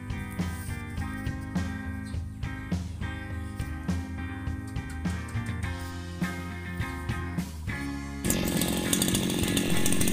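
A power cutter fitted with a saw blade runs loudly and steadily, its engine revving in repeated surges before settling into a harsher, fuller roar near the end.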